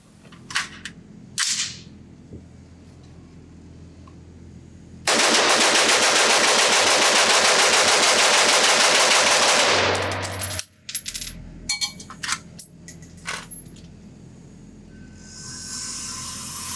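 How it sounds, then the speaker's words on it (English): A NEMO Arms Battle Light AR-15 in .223 Wylde is fired in a rapid magazine dump at a range, a loud dense burst of shots running about five seconds, followed by scattered clatter and quieter noises. "now I just gotta do a quick mag dump"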